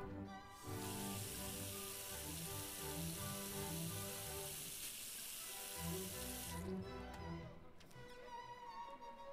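Running water from a tap splashing into a sink in the cooking game Cooking Simulator, a steady close rush lasting several seconds before cutting off, with light kitchen clatter afterward.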